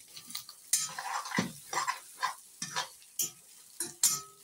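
Spices crackle and sizzle in hot oil in a pan while a goat meat curry is cooked for Dashain. Close, irregular bursts of frying hiss and pops mix with stirring scrapes, with no talking.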